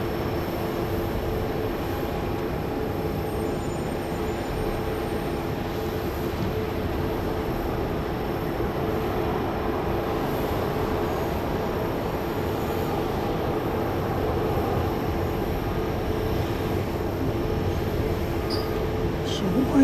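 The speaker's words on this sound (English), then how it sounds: "flight 2476 to Denver, Colorado, Southwest Airlines, a MAX 8 is getting ready to take off" A Southwest Airlines Boeing 737 MAX 8 jet bound for Denver, heard at Dallas Love Field, makes a steady, broad roar of engine noise from a distance that holds level throughout, with a faint background hum.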